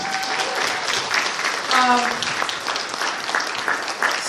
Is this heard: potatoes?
no